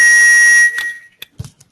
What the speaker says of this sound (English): Just ignore that alarm.